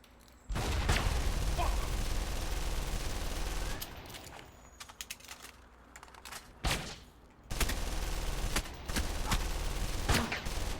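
Rapid bursts of gunfire from the Alpha Protocol video game, long sustained volleys broken by short gaps and single sharp shots, with scattered game noise and occasional voices in between.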